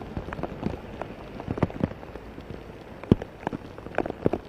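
Heavy monsoon rain falls in Ahmedabad, a steady hiss of downpour with scattered louder splashes and drips on nearby surfaces, and no talking.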